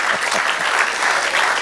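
Congregation applause at a church service, steady dense clapping from a crowd filling the room alone for under two seconds.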